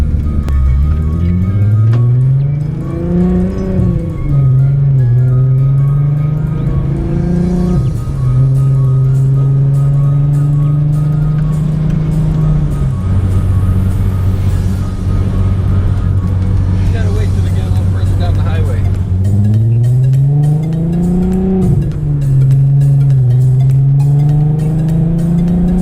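A VW Mk4 Jetta VR6 drives and backs up, its engine droning loud and close with several rising revs and gear changes throughout.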